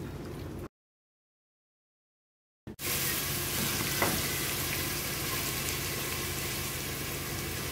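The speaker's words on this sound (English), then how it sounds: "So the carrots and onions and celery have been cooking for a while over a pretty good heat." Chopped carrots, onions and celery fry over fairly high heat in olive oil, giving a steady, close, broadband sizzle after a brief silent gap, with a soft scrape or stir near the middle.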